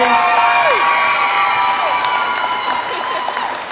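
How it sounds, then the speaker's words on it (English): An awards-ceremony audience applauds and cheers for an award winner, with dense, sustained clapping in a hall. A speaker's voice sits over the crowd noise. "how about another big round of applause for Karen Guthrie today?"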